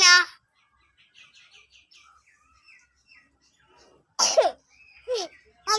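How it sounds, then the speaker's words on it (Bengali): A pet mynah bird gives a short rasping cough-like call, then scattered soft chirps and whistles, followed by two more loud harsh cough bursts near the end, close and clear. "কাশি হয়েছে তোমার না?"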